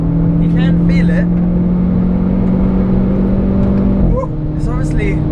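A 220-horsepower Renault Clio R.S. engine drones steadily at close range, its pitch holding then dropping as it shifts, with brief chirps and squeals over the top.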